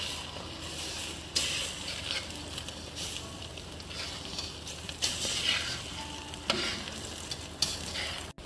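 An egg fries in a little vegetable oil beside rice in a pan for Thai prawn fried rice, with a continuous crackling sizzle and periodic scraping stirs and utensil knocks, fairly close.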